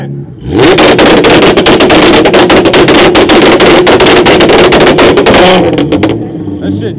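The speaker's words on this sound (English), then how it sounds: "Let me hear the Audi with it." An Audi car engine revs hard at an outdoor car event in Toronto, a loud sustained roar with rapid pulsing bursts lasting several seconds before dropping back to idle.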